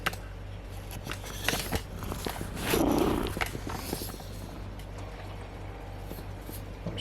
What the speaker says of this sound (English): I'm sure you guys must have heard that because he's purring